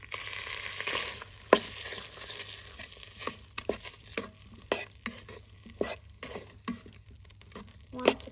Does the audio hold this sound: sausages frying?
yes